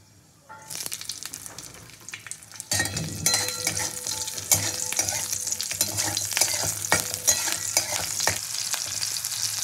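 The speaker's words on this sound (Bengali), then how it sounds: "কালো জিরেটা একটু তেলের মধ্যে নাড়াচাড়া করে দিয়ে দেবো আমি চেরা কাঁচা লঙ্কা" Nigella seeds and slit green chillies frying in hot oil, a quiet start that jumps to a steady loud sizzle with stirring scrapes throughout, no talking.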